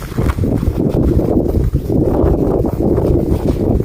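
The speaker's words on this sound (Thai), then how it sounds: "ลมแรงมาก" Strong wind gusts outdoors and blows dust around, roaring as a continuous low, rough rumble that buffets the microphone for several seconds with only brief dips.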